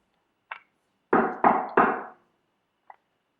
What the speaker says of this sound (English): Then there came a knocking at the street door.